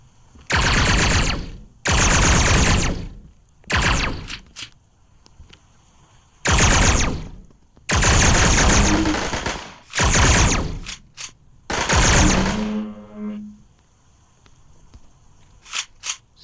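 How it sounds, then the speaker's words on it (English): Loud bursts of gunfire from a guard in a time-travel video game, fired from behind a wall; several long rattling volleys separated by short gaps, near and harsh, with no talk. "he must be shooting from the other side of the wall there"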